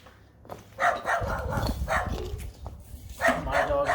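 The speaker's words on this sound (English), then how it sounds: "My dog's barking. Neighbor dog's barking." A neighbor's dog barks in short repeated bursts, moderately loud and slightly distant, outdoors near an old 1947 MALL six-foot chainsaw.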